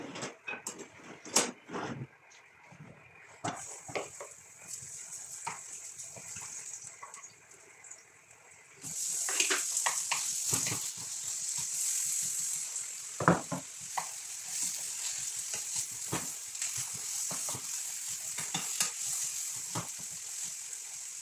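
Bitter gourd (ampalaya) stir-fried in a pan, with a steady close sizzle that grows louder partway through and repeated sharp clacks of a utensil stirring against the pan, no talking.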